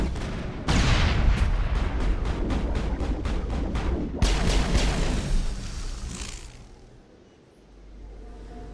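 A grenade going off in the video game Mass Effect: loud booming blasts with rapid rattling bursts of gunfire, then a second burst of impacts before the noise fades to a low rumble.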